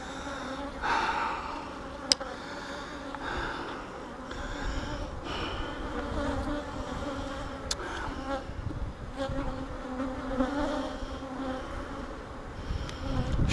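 Bees crowd a honey frame pulled from a backyard hive, giving a dense continuous buzz close by with occasional louder passes and small knocks.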